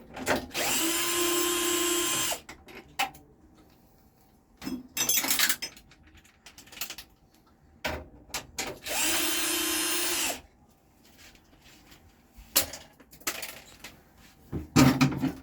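A power tool removing the nuts that hold the burner of a combi boiler during servicing, two long loud whirring runs of several seconds each, separated by clicks, clinks and handling noises close by.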